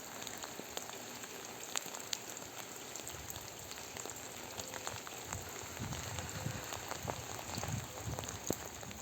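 Steady, fairly faint rain patters outdoors as a dense, even hiss of drops with a few louder nearby splashes.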